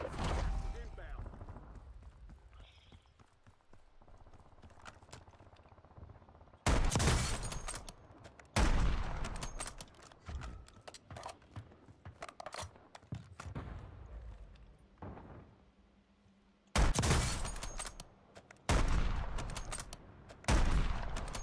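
Gunfire in Call of Duty Warzone: loud bursts of automatic shots erupt in several separate volleys between quieter stretches, with someone talking in between.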